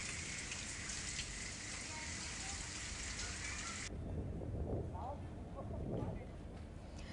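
Heavy downpour in Mangrol, Gujarat, amid flooding: a dense, steady roar of rain fills the first half, then drops away abruptly as people talk over fainter background noise.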